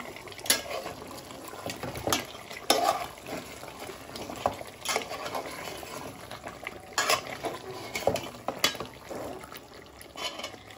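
Meat curry fries in a pan with very little oil as a utensil stirs it, giving repeated scraping clinks over a soft continuous sizzle, close and moderately quiet.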